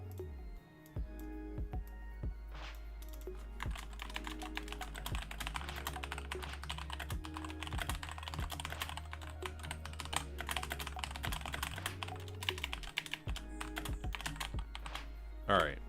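Rapid clicking keystrokes on a computer keyboard run steadily and close by for most of the stretch, with brief pauses and a low hum underneath.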